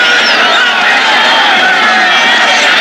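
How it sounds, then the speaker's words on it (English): A loud, sustained roar from a vociferous football crowd at Legion Field stadium during a 1984 USFL playoff game, a dense continuous wash of cheering voices. "A very vociferous crowd at Legion Field."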